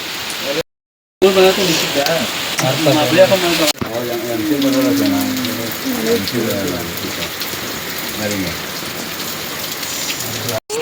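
Heavy rain pours steadily near a temple, a loud constant hiss of drops on surfaces with people talking over it and brief dropouts.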